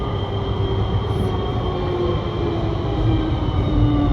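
Siemens VAL208 NG2 metro train running through a tunnel, heard from inside the car as a loud, steady rumble with a constant motor whine and track roar throughout.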